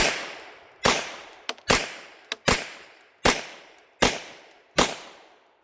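A Husqvarna 1907 pistol in .380 ACP fired in a steady string of seven sharp, loud shots about a second apart, each with a short decaying tail and faint small clicks between.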